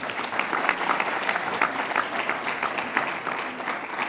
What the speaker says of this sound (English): You can give them a round of applause for that again.